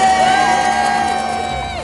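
A crowd of well-wishers on the royal wedding day of Will and Kate cheers and shouts loudly, with a high whoop gliding over the steady roar for just under two seconds.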